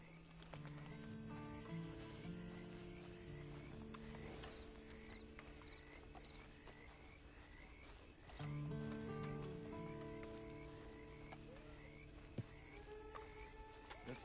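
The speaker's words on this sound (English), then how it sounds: "Then you better get on this horse." Horse hooves clip-clop in Red Dead Redemption 2, a steady walking rhythm set against soft outdoor ambience and musical tones, with occasional snorts.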